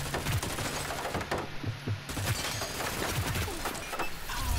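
Riot One gunfire in a PC shooter game, rapid bursts of crackling shots layered over a dense, busy mix of in-game effects and a continuous background din.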